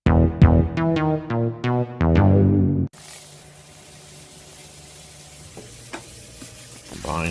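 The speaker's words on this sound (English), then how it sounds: "we're just going to cook this until our sausage is fully cooked and browned" Sausage browning in a pan with a spoonful of seasoning, heard as a steady close sizzle with a few stirring scrapes, preceded by a brief bright melodic music passage.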